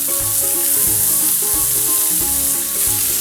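Steak browns in a frying pan with a loud, steady, close sizzle that continues throughout, while a melodic tonal pattern runs underneath.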